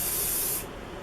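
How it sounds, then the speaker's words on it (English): Hairspray hisses from an aerosol can onto hair in one short burst lasting about half a second, close and clear, then cuts off to quiet. "So just kind of spray that throughout your hair on the other side as well."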